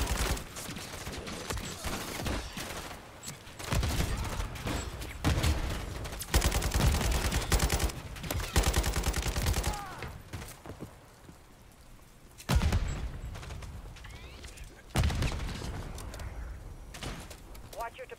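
Heavy gunfire in Modern Warfare 3 during an assault on a Konni base, dense bursts of automatic fire and explosions with short lulls, while voices talk over the combat.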